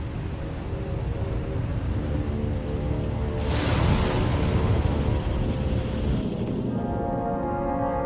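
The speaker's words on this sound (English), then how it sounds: "Looks like the storm's not letting up anytime soon" Steady heavy rain pours through a stormy scene in the Star Wars: The Old Republic video game, with a broad low rumble of thunder swelling near the middle and a tonal hum entering toward the end.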